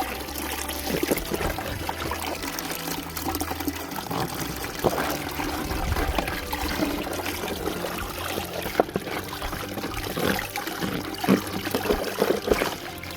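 Water trickles and splashes over a gold pan as it is washed down outdoors at a placer gravel site below an old gold mine, a steady close splashing with gritty scraping and rattling throughout.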